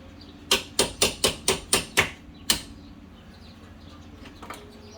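A stuck socket on a Lincoln Zephyr rear brake caliper gets tapped free with a hammer, about seven sharp metallic knocks in quick succession, then a final strike, close and clear over a low hum.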